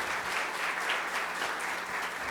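Sustained applause from a seated audience for the Comotor business group at a passenger transport congress, a dense, steady clapping that fills the room evenly from start to finish.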